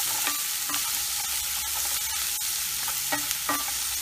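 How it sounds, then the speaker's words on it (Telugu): Onions frying in a pan with turmeric, a steady close sizzle with a few soft stirring scrapes, with no voices. "ఆనియన్స్ ఇక్కడ వేగుతున్నాయి కదా"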